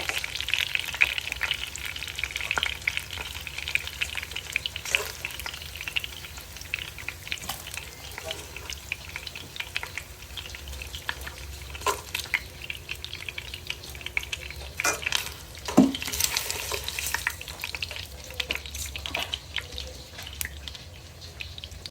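Turkey wings frying in a pan, a steady sizzle and crackle with occasional pops and light utensil clinks over a low hum, moderately close, with no voices.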